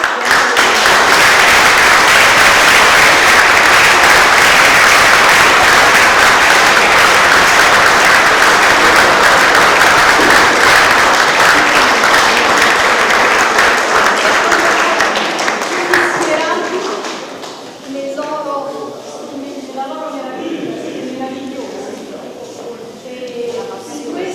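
Loud, sustained applause from a concert audience after an evening of historical music, dance and serenades, filling about sixteen seconds before dying away as a voice begins speaking.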